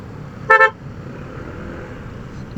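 A single short car horn toot, loud and close, over a steady hum of road and engine noise.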